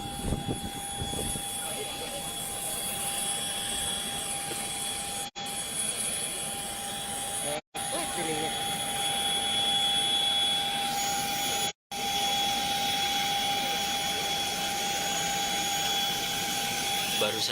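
Steady jet aircraft engine whine at an airport apron, with a sustained high tone over broadband roar, continuous and fairly close, while an ambulance unloads a patient toward the plane; a few brief dropouts interrupt it.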